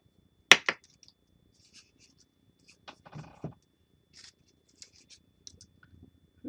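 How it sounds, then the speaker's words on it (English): Scissors cut paper flowers for a journal craft, starting with a sharp close snip and a second cut, then sparse quieter snips and faint paper rustles across several seconds. "So then I'm going to cut it out a few more times."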